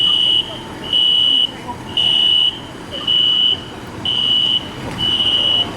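A household fire alarm beeps in a steady pattern of six long, loud, piercing tones separated by short gaps, heard alone without speech.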